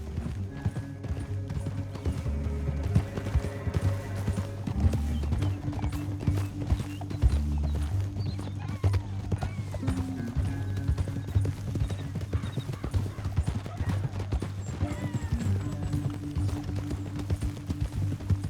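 Horse hooves clip-clopping steadily in Red Dead Redemption 2, a rhythmic gallop running the whole time beneath a low game score, with a brief whinny in the mix.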